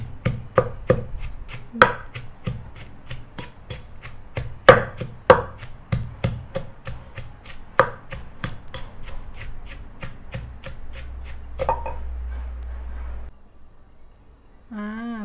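Garlic and shallots are pounded in a mortar for a chili dip, with rapid, rhythmic pestle thuds repeating closely for several seconds before slowing and fading into quieter handling.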